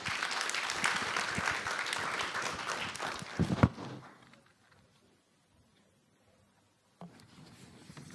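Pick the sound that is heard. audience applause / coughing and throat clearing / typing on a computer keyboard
audience applause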